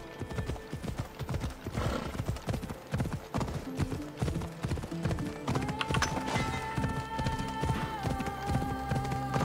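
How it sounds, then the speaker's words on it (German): Horse hooves clip-clop steadily in Assassin's Creed Odyssey, a dense rhythmic patter of steps with a brief whinny, set against game music that swells in the second half. "Pferdchen!"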